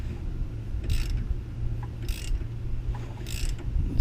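A ratchet with a 24mm socket works to pull a pulley off a 2005 Dodge Magnum 3.5L engine during a timing belt and water pump job: three bursts of close clicking over a steady low mechanical hum.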